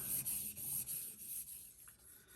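A knife being sharpened on a sharpening stone gives soft, close rhythmic rubbing strokes, about eight quick passes in a little over two seconds.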